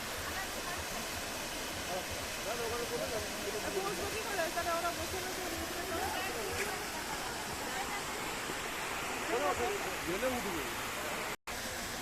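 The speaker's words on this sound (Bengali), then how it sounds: "অসংখ্য জলধারা বেরিয়ে আসছে পাথরের বুক চিরে।" A waterfall roars steadily over rocks at Raat Mohona falls, Ghatshila, Jharkhand, a dense continuous rush close by, with faint voices beneath it.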